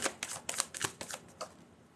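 A deck of tarot cards is shuffled underhand in a quick, uneven run of soft riffling flicks and slaps, fairly quiet and close.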